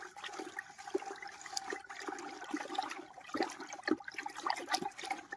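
Algrip wheat herbicide stirred by hand into water in a container makes a continuous swishing, sloshing wash of liquid. It is close and steady, with small surges and no voices.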